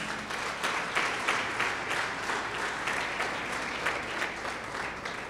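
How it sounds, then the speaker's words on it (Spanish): Church congregation applauding during a sermon, a steady, fairly distant wash of clapping hands with a few sharper individual claps standing out. "Denle un aplauso al Señor."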